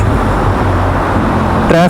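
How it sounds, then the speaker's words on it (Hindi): Road traffic on a busy street passes as a steady, loud low rumble of car engines and roadway noise, with a person talking over it. "यहाँ पे इस रोड पे ट्रैफिक"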